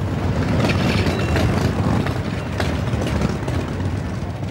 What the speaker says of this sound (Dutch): Het bekende geluid van de Harley-Davidson motoren klonk als een afscheidssymfonie over de Noorderbegraafplaats in Haarlem